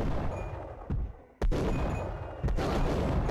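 Gunfire aimed at the player in Max Payne: several sharp, loud shots ring out close by in irregular bursts, each followed by a brief echoing tail.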